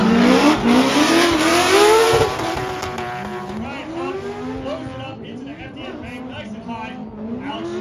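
Drift cars in a two-car battle at a competition event, engines revving hard and rising in pitch as they slide through a corner, with tire noise and a commentator talking over the action.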